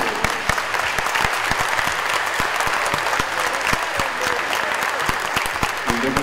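Vigorous applause at a Spanish-language tribute ceremony for a singer, with many sharp individual claps standing out over a dense, continuous crowd clapping lasting several seconds.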